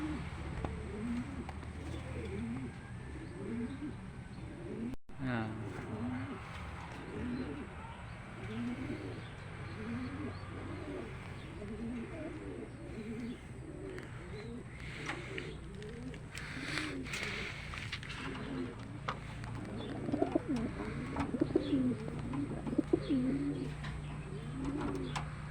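Racing pigeons coo steadily inside a breeder loft, with soft, rhythmic, overlapping calls from several birds close by, occasional chirps and a faint low background hum, and no talking.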